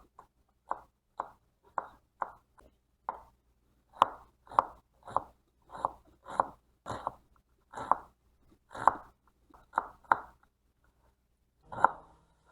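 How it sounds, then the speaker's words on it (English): A knife chops ingredients for a Kerala ginger curry on a cutting board in a steady series of distinct thuds, about two per second with brief pauses, close by and without talking. "Let me chop all the ingredients first"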